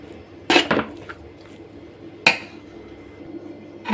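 A utensil clanks sharply against a metal pot a few times while rice is mixed with gojju for masala chitranna, with quiet stretches between the clinks.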